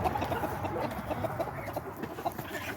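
Chickens clucking steadily in a coop, a dense, continuous chatter of several birds close by with no speech.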